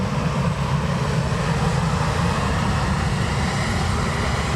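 A Ryanair airliner departing Dublin Airport for London Gatwick roars loudly and continuously, a dense low rumble with hissing wind and rain noise.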